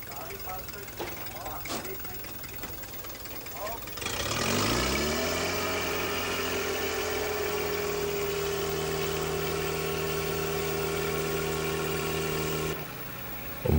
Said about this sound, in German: Das Ladefahrzeug des Waffensystems fährt an das Startgerät.